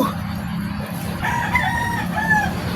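A rooster crows twice in close succession, clear and fairly near, over a steady low background hum.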